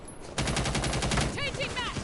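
Steady rapid automatic gunfire in a tactical bomb-defusal shooter, dense and continuous for over a second after a brief quiet lead-in, with a few sharp metallic whistle-like chirps near the end.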